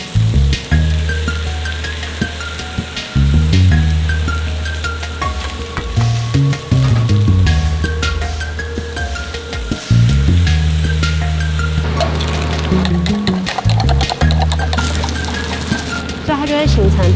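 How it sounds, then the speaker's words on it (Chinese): Batter ladled around pan-fried oysters for a Taiwanese oyster omelet sizzles steadily as its edges crisp and dry, a continuous frying hiss beneath a voice and a strong tonal background. "让那些粉浆非常均匀的铺在旁边，然后让它煎脆煎干"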